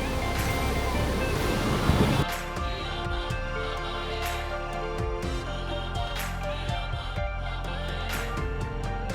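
Ocean surf at a surf beach, a loud roaring wash of waves with wind buffeting the microphone, steady and enveloping with a heavier burst early on.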